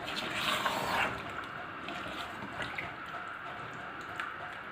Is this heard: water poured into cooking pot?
yes